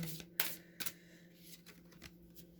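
Oracle cards are shuffled and drawn for a tarot-style reading, producing a few quick, close, crisp bursts of card flicking followed by lighter rustles.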